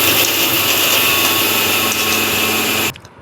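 Kitchen mixer grinder blending grated coconut with fennel seeds, a loud continuous high whir that stops abruptly near the end.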